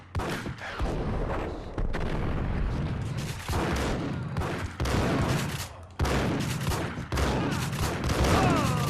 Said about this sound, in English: That guy just took a point-blank shotgun to the face.